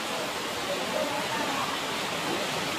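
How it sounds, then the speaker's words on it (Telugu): Heavy rain pours with running water along the Vaishno Devi pilgrimage route, a dense steady roar of water that stays constant and fairly loud from start to finish. "ఎలా ఉందో రెయిన్ చూడండి, వాటర్ ఎలా వస్తున్నాయో."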